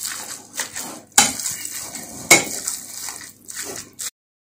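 Chicken kachori filling with lemon juice being mixed in a bowl, with scraping and clinking of a spoon against the dish in uneven strokes and a couple of sharper knocks.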